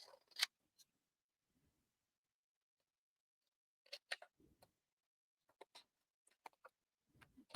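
Scissors snip through patterned card paper in crisp, close clicks: a few quick cuts at the start, a long quiet pause, then a cluster of sharp snips spread across the second half.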